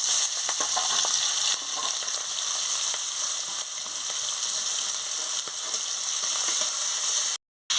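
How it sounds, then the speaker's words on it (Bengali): Shrimp rubbed with salt and turmeric fry in hot oil, a dense, steady close-up sizzle with faint stirring clicks that cuts off abruptly near the end, with no talking. "চিংড়ি মাছটা কেটে ধুয়ে আমি নুন হলুদটা মাখিয়ে নিয়েছি। এবারে আমি ভেজে নেব।"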